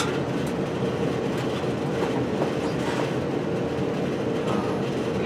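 A garage furnace runs nearby as a steady, even roar of broadband noise with a low rumble, unbroken throughout.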